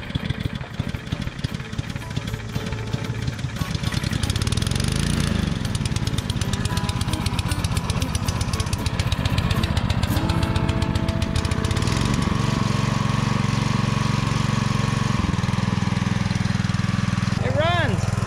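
A brand-new Simpson pressure washer's small engine is pull-started after stalling, then settles into a steady, loud, continuous running drone close by, with a short rougher stretch early on before the engine holds.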